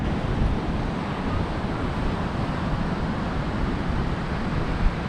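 Ocean waves breaking on a beach at Yamba, a constant broad wash of surf mixed with wind rushing over the microphone, with no talk.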